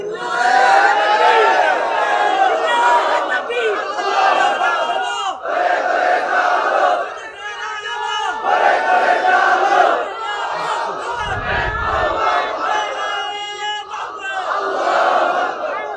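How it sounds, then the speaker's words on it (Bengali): A large crowd at a religious sermon loudly chanting the takbir, Allahu Akbar, in repeated, forceful unison, with the swelling cries coming in waves and brief pauses between them. "এখন তাকবীর দেওয়া দরকার, জোরে তাকবীর দেন"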